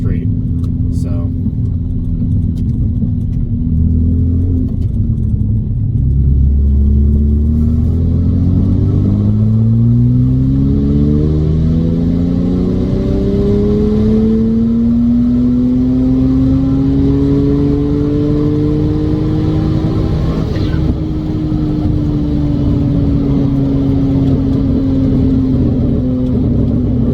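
Car running E85 fuel pulls hard from 1500 RPM on a road, its engine note climbing steadily in pitch over many seconds before leveling off, loud and close throughout.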